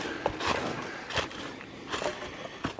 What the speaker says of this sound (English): I'm walking straight up the creek bed.